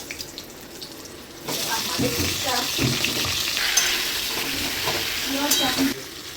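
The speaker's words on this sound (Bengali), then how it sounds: "এবার দিয়ে দেবো ডুমো ডুমো করে কেটে রাখা কুমড়ো" Diced pumpkin drops into hot oil and frying erupts into a loud, steady sizzle with stirring scrapes, starting after a quieter moment and cutting off near the end.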